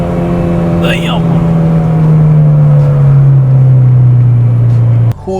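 Honda Civic SiR with a B18C engine holding a loud, close, sustained drone that sinks slightly in pitch, then drops off abruptly near the end.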